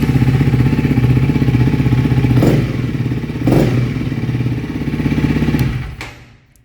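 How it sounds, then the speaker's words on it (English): A Honda CRF300 dual-sport motorcycle with its pair valve disabled idles steadily up close, its rapid thumping pulse broken by a couple of clunks before the engine shuts off and falls silent. "I'm going to turn on the engine"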